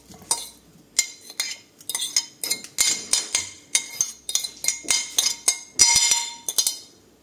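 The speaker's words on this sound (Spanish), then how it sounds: "Así con el tenedor lo aplastáis un poquito y lo vais desmenuzando un poquito más." A fork mashes and flakes salt cod in a bowl, making a regular series of close clinks and scrapes against the dish, about two per second, with no talk over them.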